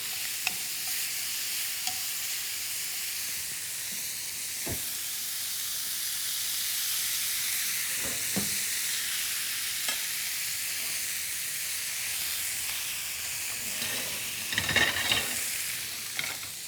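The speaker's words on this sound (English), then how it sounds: "Right, so these onions are colouring up." Onions caramelising in a hot pan give a continuous loud, close sizzle and hiss, with occasional sharp stirring clicks and a brief busier burst of stirring near the end, with no voices.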